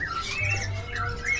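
Magpie robin (murai) calling at a bird market, with short shrill squawking notes repeating over a low background hum, close and moderately loud, no talking.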